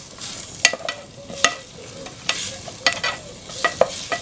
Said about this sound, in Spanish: Removemos un poquito.